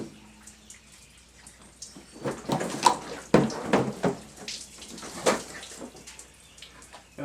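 Coolant spills and splashes in irregular gushes from a radiator line disconnected at the filler neck of a 1994 GMC Suburban, loudest in the middle and fading to faint trickles.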